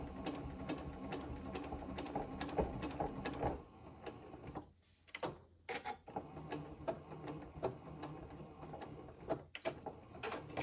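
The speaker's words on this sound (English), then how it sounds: "So I'm going to stitch right up until the fold, and then I will tie a knot and cut my threads." A sewing machine stitches pieced quilt fabric for a cathedral windows quilt in steady, close, continuous runs, pausing briefly near the middle before resuming its rapid mechanical chatter.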